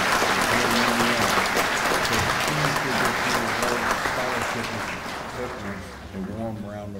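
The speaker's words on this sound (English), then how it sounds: "please give this year's award scholarship recipients a warm round of applause" Warm audience applause for scholarship recipients at an American Legion event in Indiana, loud sustained clapping from a crowd with voices talking underneath, easing slightly toward the end.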